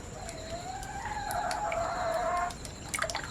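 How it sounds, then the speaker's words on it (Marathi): A rooster's drawn-out crow rises and falls in the background, followed by a few faint clucks from chickens. "पाठून बॅकग्राऊंडमध्ये कोंबड्यांचा पण आवाज आहे"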